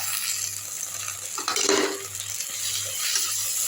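Mint and coriander leaves sizzle and fry in hot oil in a pot for chicken biryani, a steady close crackle with a brief louder burst as they hit the oil.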